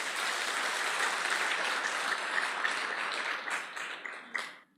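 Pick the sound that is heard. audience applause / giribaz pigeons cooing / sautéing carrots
audience applause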